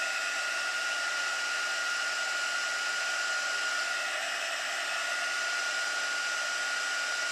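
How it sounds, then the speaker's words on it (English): Heat gun blowing hot air in a steady, unbroken hiss-like whoosh that holds at constant level for several seconds, close and alone without voices. "They move when you put the heat gun to them"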